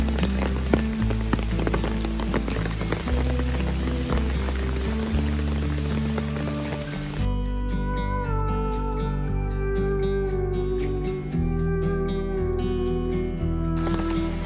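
Rain drums on an umbrella in the outdoors, a close, steady patter of drops over a low background din that later thins into sharper, sparser taps.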